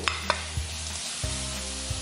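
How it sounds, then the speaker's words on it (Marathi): Jaggery dropped into a hot wok and stirred, giving a steady close sizzle with a few short scrapes and clicks of the spoon. "गरम कढईत आपण आता गूळ टाकून घेऊ"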